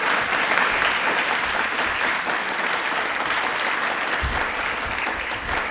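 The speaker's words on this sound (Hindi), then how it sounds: "जोरदार तालियां" Sustained loud applause from an audience at an Indian Railways quiz event, many hands clapping in an even, unbroken wash that holds steady throughout.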